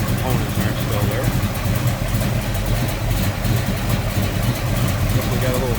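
A 1970 Chevrolet Monte Carlo with a 454 big block V8, headers and HEI ignition, idles steadily and loudly with a slightly lumpy cam rumble. A voice speaks over it.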